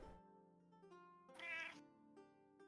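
A cat meows in a video game, a single drawn-out call rising over soft game music and ambient tones, fairly close and clear.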